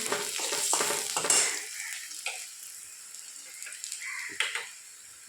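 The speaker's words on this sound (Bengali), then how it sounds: "একটা শুকনো লঙ্কা দিলাম, ভেজে নিলাম। রসুন কুচিটা দিয়ে দিলাম।" Chopped garlic and a dried red chilli fry in hot oil, giving a soft crackling sizzle broken by a few stirring scrapes, louder at first and then settling into a quieter hiss.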